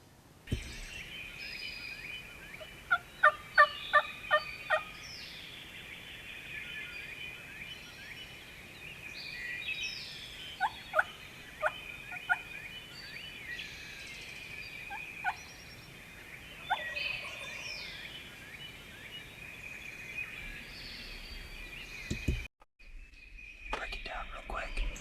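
Wild turkey gobblers in a wooded hollow during Ohio spring season: several distant gobbles echo at intervals over steady insect drone and birdsong, while a man whispers nearby.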